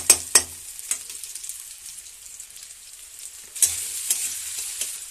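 Potatoes and onions frying together in a pan give a soft sizzle, with a few sharp clinks and scrapes of stirring at the start and again near the end, close and moderate in level.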